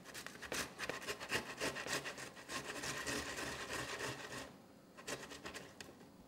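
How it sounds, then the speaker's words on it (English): Tomato halves are rubbed against a coarse grater for a seafood paella, making quiet, rapid, rhythmic scraping strokes that pause briefly near the end and then resume. "I'm just going to cut my tomatoes in half, and then I'm actually going to grate them"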